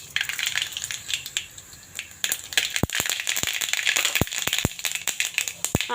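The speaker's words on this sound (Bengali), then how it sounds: "এখন আমি গোটা সর্ষে এই যে কালো সর্ষে দিয়ে দেবো" Whole black mustard seeds hit hot oil in a kadai that already holds dried red chillies, setting off sharp, scattered pops and crackles over a soft sizzle, close and irregular.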